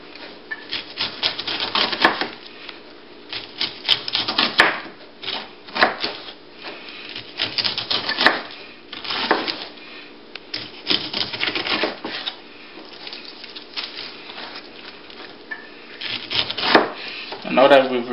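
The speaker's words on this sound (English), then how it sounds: "work your way down with a sawing action all the way down" A knife saws through tough pineapple rind in repeated rasping strokes, coming in irregular bursts and pauses across the clip.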